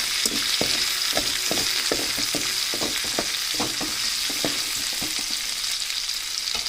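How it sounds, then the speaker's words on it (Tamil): Chana dal and dried red chillies fry in hot oil with a steady sizzle, and a spoon scrapes and stirs the pan in regular taps throughout. "கடலைப்பருப்பை சேர்த்துட்டு அதையும் லைட்டாக வறுத்து விட்டுறலாம்"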